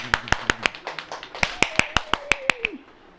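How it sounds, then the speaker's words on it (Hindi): A church congregation claps hands in a steady rhythm, about fifteen sharp, loud claps in quick succession, with a voice briefly audible underneath before the clapping stops. "ताली बजाओ।"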